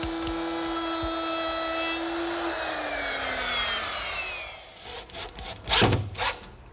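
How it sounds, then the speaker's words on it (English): A woodworking router fitted with a 1/4-inch radius quarter round bit shaping the bottom edge of a sideboard top: a steady high motor whine that winds down, then brief scraping, rubbing wood sounds. "Now I'm going to replace that 1/2-inch bit with a 1/4-inch radius quarter round and do the bottom edge of the top."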